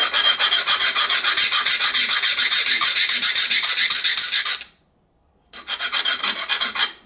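The heel of a straight razor is ground down on a hone with a harsh, steady rasping scrape that stops briefly and then resumes, loud and close.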